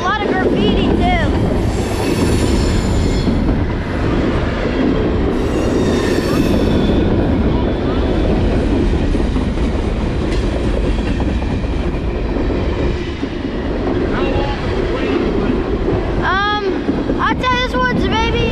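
A long freight train of graffiti-covered garbage cars rolls steadily past a station platform at Halethorpe, Maryland, with continuous rumbling wheels, clacking and occasional high wheel squeals, loud and close throughout, with people talking under the noise.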